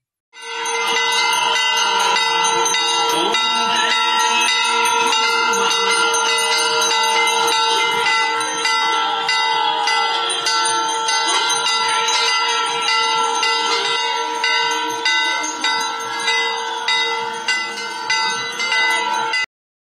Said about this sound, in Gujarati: એક હાથમાં આરતી અને એક હાથમાં ઘંટડી લઈ ઊભા છે અને આરતી ઉતારી રહ્યા છે